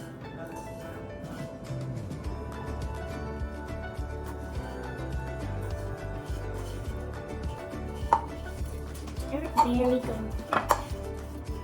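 Melted chocolate mix being stirred in a bowl for bird nest cookies, repeated soft scraping and knocking of a utensil, with a brief spoken remark near the end.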